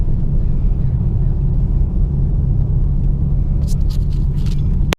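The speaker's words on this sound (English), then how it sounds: "Roll down the window so you guys get a little engine noise, little wind noise" Steady low rumble of a car engine with wind buffeting through an open window while driving on Falken tires in a car with a dual-clutch transmission, constant and close, with a few brief clicks near the end.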